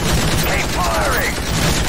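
Dense gunfire from a Call of Duty game crackles in rapid bursts against the chopper drone, loud and close, with a voice shouting over it.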